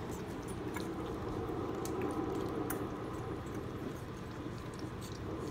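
Newborn puppies nurse hungrily, making soft wet suckling and squishing sounds close by, continuous and busy with faint clicks and drips and no talking.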